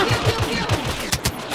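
Rapid gunfire in the Star Wars Battlefront video game: a quick run of sharp shots in an even rhythm, followed by a couple of louder separate blasts at the end.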